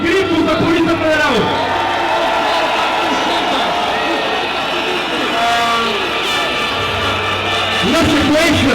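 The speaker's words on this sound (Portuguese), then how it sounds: "uma salva de palmas e gritos da Polícia Federal" Crowd at a protest rally in support of the Federal Police applauds and cheers continuously, a dense, loud wash of clapping and shouting that swells again toward the end.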